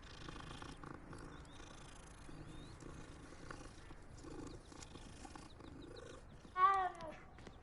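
A cat in the Hogwarts Legacy video game purrs in a soft, low, continuous rumble, faint under quiet ambient game sound, ending with a short louder cry near the end.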